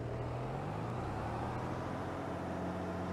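Tractor engine in Farming Simulator 22 straining under load while pulling, a steady low droning rumble with sustained harmonic tones, continuous and fairly close throughout.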